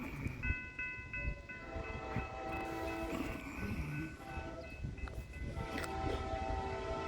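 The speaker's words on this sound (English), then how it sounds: "Do have a train coming from over there." A Norfolk Southern freight train rumbles nearby in Oak Harbor, Ohio, with sustained horn tones sounding repeatedly over the clatter of rolling cars, loud and continuous.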